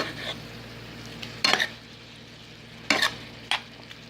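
Ground turkey being stirred in a hot pan, with a few short scraping strokes over a steady low sizzle and no talking.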